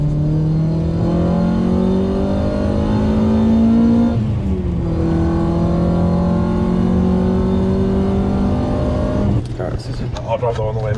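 A project car's engine hums and revs steadily as it drives. The pitch drops once partway through as if shifting gear, and near the end a rattling burst sounds close by.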